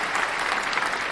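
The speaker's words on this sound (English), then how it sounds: "Let's give him a round of applause" Steady applause from a crowd at a Sunday Night Football watch party, dense clapping that fills the whole moment without a break.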